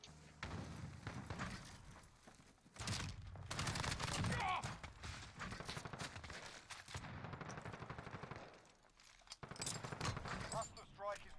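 Rapid gunfire and bursts of automatic weapons in a Call of Duty: Modern Warfare multiplayer match, loud and dense, with thumps and booms mixed in beneath ongoing talk from players.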